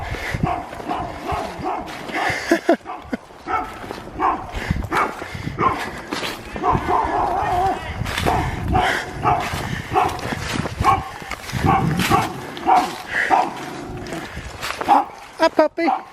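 A puppy barks and whimpers at a forest camp with a hammock set up, short yips and whines scattered across the clip, close by, mixed with people talking.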